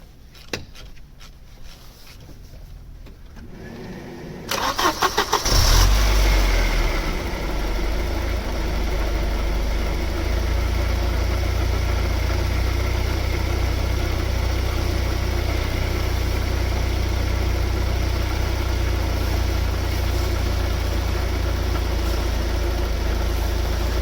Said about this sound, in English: You just start the car again and we'll see what happens.